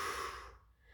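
One short, close breath out fades into quiet during a gentle wrist stretch, with no talk.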